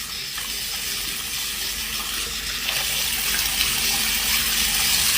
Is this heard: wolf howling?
no